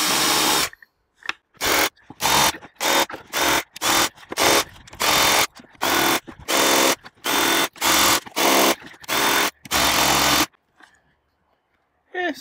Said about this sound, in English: What I've got here is a little grinder thing.